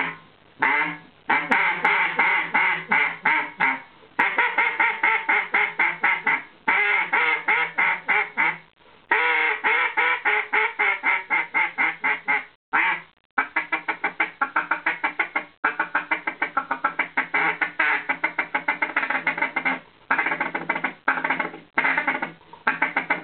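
Zink waterfowl duck call blown in long runs of loud, raspy quacks, a rapid steady cadence broken by short pauses, close and alone with no voices, a call suited to windy days and reaching distant birds.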